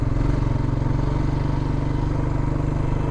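A 2004 Honda Rancher 350FE ATV climbing a trail in the Catskills in third gear, its single engine chugging in a steady, close, throbbing drone under load for about three seconds with no talking.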